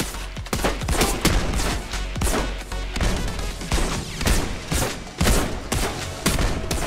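Dense, relentless automatic gunfire from the VR shooter John Wick Chronicles, loud and close, with rapid overlapping bursts and impacts running continuously without pause.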